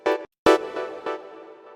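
A Serum 2 software synth pluck with randomized modulation and no arpeggiator plays three separate notes, the first two short and punchy after a gap, the last decaying into a soft ringing tail.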